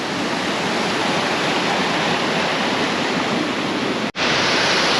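Steady, loud roar of a waterfall at the hidden pools, a dense unbroken rush of falling water close by, with one brief dropout near the end and no voices.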